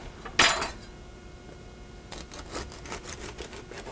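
A knife cuts through soft-baked pecan biscotti loaves, starting with a bright metallic clink against a pan, then a series of light rhythmic taps and crunchy strokes as the blade meets the board.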